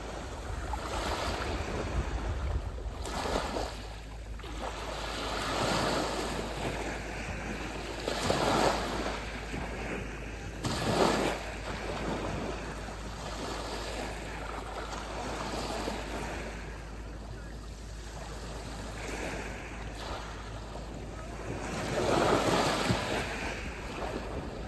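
Sea waves roll in on Aberystwyth beach, a steady wash of surf with gusts of wind buffeting the microphone and a few louder breakers swelling through.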